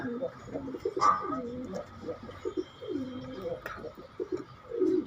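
Pigeons coo on a small pigeon farm with nesting boxes, a low, rolling, bubbling murmur repeating under a steady background, with a brighter call or two standing out near the start.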